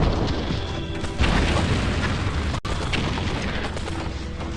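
Battle din from an Indonesian independence war film: a dense, continuous roar of booming explosions and gunfire, loud and steady throughout, with one brief cut near the middle.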